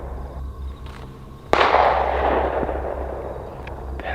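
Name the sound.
pistol gunshots on a hiking trail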